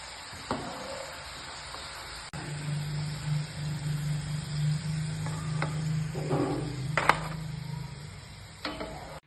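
Steady sizzling and hissing of nimki dough strips frying in hot oil until brown, with occasional louder crackles and pops.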